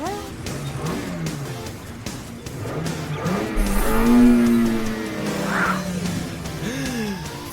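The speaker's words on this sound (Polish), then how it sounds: "Tym razem Marley użyje turbo doładowania nitro." A cartoon car engine revs up with a nitro turbo boost, rising and falling in pitch with whooshing swells and a squealing surge in the middle, loud and close throughout.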